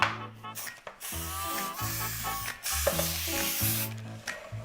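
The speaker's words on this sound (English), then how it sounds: "Now you want to spray the sides with some cooking spray." Cooking spray is hissed onto the sides of a pan in several short bursts, close and fairly quiet, with small handling sounds between them.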